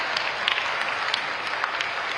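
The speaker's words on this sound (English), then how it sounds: "Can we have a huge round of applause for her?" Audience applause for a guest invited on stage at the International Purple Fest closing ceremony, a continuous crowd clapping with a few sharper claps standing out, brief and fairly loud.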